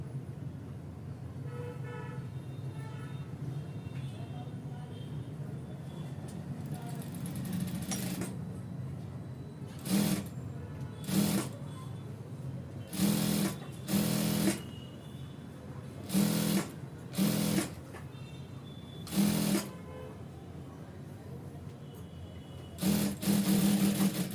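A sewing machine stitches the side seam of ankle-length pants in about nine short, loud bursts of running, separated by pauses, over a steady low background hum, with no talking.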